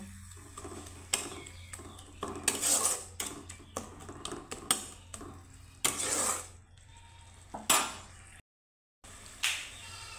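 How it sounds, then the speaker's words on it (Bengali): A spatula scrapes and stirs a spice paste of coriander and cumin powder with a splash of water in a pan, in irregular close bursts of scraping with brief quiet gaps. "তো মশলাটাকে আমি সুন্দর করে কষিয়ে নেব।"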